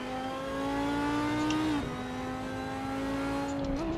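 A race car in Assetto Corsa at the Kyalami circuit, its engine note climbing steadily through the revs, dropping briefly at a gear change, then pulling hard again, loud and close with no talk.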